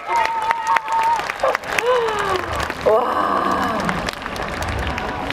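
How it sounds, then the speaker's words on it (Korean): Concert audience applauding and cheering during a talk segment with a K-pop group at the Kia Hope Dream Concert, a steady, loud wash of clapping that runs the whole time while a voice speaks over it and a crowd voice exclaims. "이번에는 박수를 보내주는 타이밍이에요."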